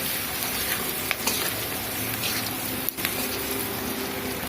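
Onions fry in a pan for an egg and potato curry, giving a loud, continuous, close sizzle with a couple of brief stirring clicks and no voices.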